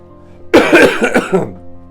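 A single close, loud cough from a man with a summer cold, with a couple of quick follow-up hacks, then quiet.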